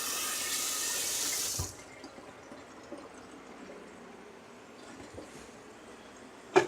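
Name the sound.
water being poured into a bean can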